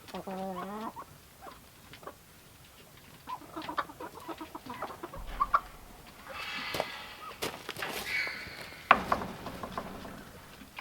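Backyard chickens cluck and squawk in bursts near an off-grid cabin, with scattered sharp calls, light clatter and a low rumble mixed through the stretch.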